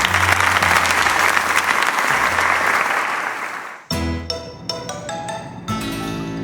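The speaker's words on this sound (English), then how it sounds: "let us give another heartfelt round of applause to Ferrets." A crowd in the video game Pokémon Legends Z-A claps loudly and continuously, a dense wash of applause that fades out and breaks into scattered, sharper claps near the end.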